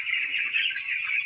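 Chickens cluck and chatter continuously on a poultry farm, a dense, close flock sound without pauses and with no talking.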